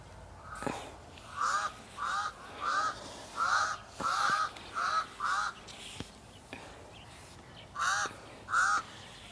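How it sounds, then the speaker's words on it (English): Crows caw repeatedly outdoors in short, harsh calls, spaced steadily with a brief pause before two final caws. "And the birds are out joining me"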